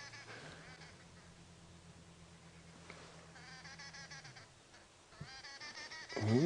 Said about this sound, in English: we can hear some noisy arrow-marked babblers in the distance